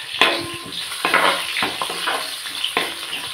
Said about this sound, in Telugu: 2 పచ్చిమిర్చి, కొన్ని ఆనియన్ ముక్కలు వేసుకొని బాగా కలుపుకుందాం